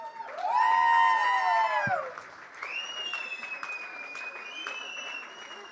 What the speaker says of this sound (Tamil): அண்ட் ஒரு பெரிய கைத்தட்டல் கொடுத்துடலாம்.